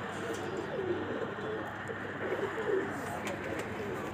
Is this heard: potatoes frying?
no